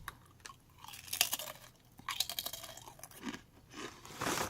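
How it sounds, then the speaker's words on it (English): Sprouts sour chips crunch in bursts of close, crisp chewing, several bites and chews spread irregularly, fairly quiet and with no talk. "these ones are super crunchy. Listen to this."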